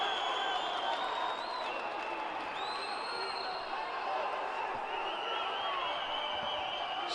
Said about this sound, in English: The Azeri crowd obviously cheering their man GADZHIALIYEV